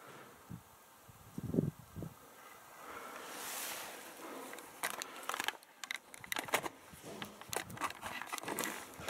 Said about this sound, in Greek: Ο αέρας βαράει τα πάντα.